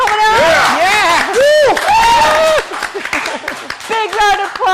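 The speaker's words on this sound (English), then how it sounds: "Big round of applause for the new Star Wars movie coming out." Audience cheering and whooping at a Star Wars cosplay show, loud rising and falling shouts and voices dominating over scattered clapping, with the crowd noise dropping briefly before surging again.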